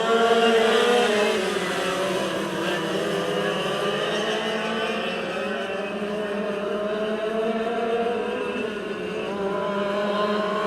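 Karts racing on the Perris Auto Speedway oval, a pack of small engines droning and whining together in steady, overlapping tones that hold at high revs throughout.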